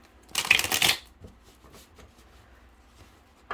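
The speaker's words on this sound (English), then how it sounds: "let me grab this deck real quick. Okay. All right, let me shuffle here" A tarot deck is shuffled in one quick riffle lasting about half a second, loud and close, followed by quiet rustling and light handling sounds.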